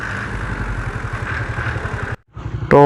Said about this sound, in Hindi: ये देखें ट्रैक्टर भी घूमता है